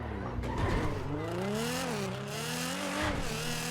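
A Nissan GT-R R35 supercar engine revs and accelerates hard with rising harmonic pitch sweeps, loud and close, likely heard from inside the car on a straight road, with a brief dip and a renewed pull near the end.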